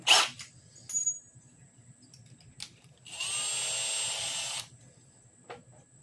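A high-pitched drill whines steadily for about a second and a half, drilling with a bit and guide to change a Hemi exhaust pattern, with a few short taps and clicks before and after in a quiet room.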